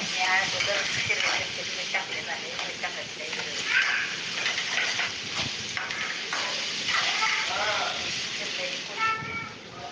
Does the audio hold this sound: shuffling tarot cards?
no